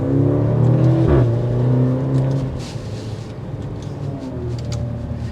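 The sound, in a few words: 2023 Maserati Grecale Modena driving and accelerating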